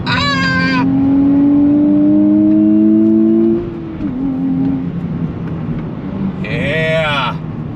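A 2023 Nissan Z twin-turbo engine revs hard on the brakes toward 7,000 RPM, its pitch climbing steadily for a few seconds before dropping off, then a brief rising whine near the end.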